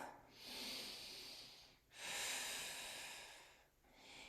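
Slow breaths during a Pilates flow class: a soft airy inhale, a pause, then a fuller exhale and the start of another, close and quiet with no talk.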